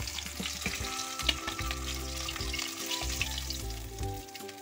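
Fish frying in oil in a pan, a crackling sizzle held under a steady background of tonal hum and music-like notes, moderately loud and continuous without talk.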